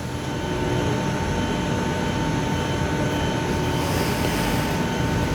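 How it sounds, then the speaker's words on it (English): Olives are washed by machinery in an olive oil mill in Greece, a loud, continuous mechanical whir and rumble with a steady hum and no voices. "The last of the olives being washed there."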